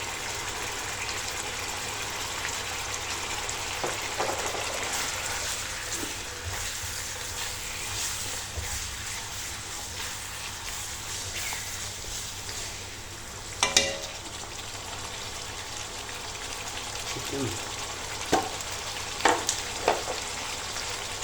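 Vegetables and noodles stir-fry on high flame in a home kitchen with a continuous hiss of frying, occasional louder clatters of stirring and tossing in the pan.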